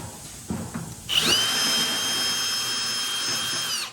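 A power drill spins up sharply with a high whine and runs steadily for a few seconds, close and loud, with no talking.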